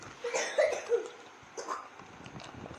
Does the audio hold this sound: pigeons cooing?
no